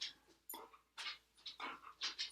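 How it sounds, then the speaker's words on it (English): A pet dog panting in a room: a run of quick, rhythmic breaths, several rapid pants close to the listener, with no talk over them. "my dog just came in"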